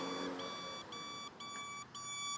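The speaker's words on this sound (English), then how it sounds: "Everyone says it's an annoying beeper, but honestly, I like it." Turn signal beeper on a Honda CB550 motorcycle gives faint, evenly spaced electronic beeps, each a steady tone lasting about half a second, repeating in a regular on-off rhythm.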